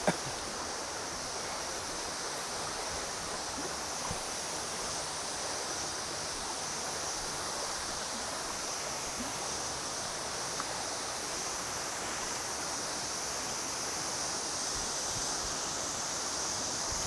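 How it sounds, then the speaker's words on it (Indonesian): A waterfall seen up ahead on a trek to Elong Tune and Lingkoq Jin gives a steady, dense rush of falling water that holds at an even level throughout, with no voices heard. "udah kelihatan air terjun"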